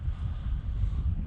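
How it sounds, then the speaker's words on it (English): Low, steady wash of water lapping against a boat hull with wind noise, a continuous murmuring slosh close by with no distinct splashes standing out. "You can hear water tickling the hull."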